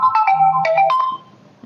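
Phone ringtone for an incoming call, a bright electronic melody of quick tonal notes playing loud and close for about a second before fading, with no talking.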